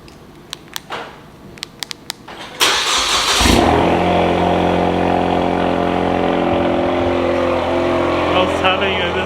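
A few clicks, then a Ford Mustang EcoBoost engine cranks and roars to life, settling into a loud, rumbling idle from a downpipe and straight-piped exhaust, close and continuous.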